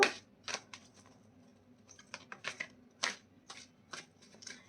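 Tarot cards shuffled and drawn in a series of crisp, quiet riffles and flicks, close by and irregular, with no talk over them.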